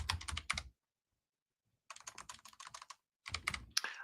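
Two quick bursts of computer keyboard typing, with a word being keyed in, are heard up close and separated by a second or so of complete silence.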